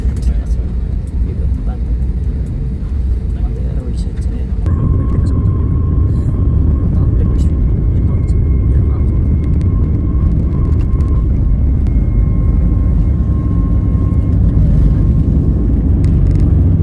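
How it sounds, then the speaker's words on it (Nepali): An airplane takes off from Kathmandu, its engines a loud, steady roar and deep rumble heard from inside the cabin that carries on without a break, with a voice talking over it. "प्लेनले पुरै धरती छोडिसकेको छ।"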